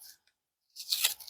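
An extra paper layer peels off a business card in one short, close, dry tearing rasp after a brief silence, with no talk.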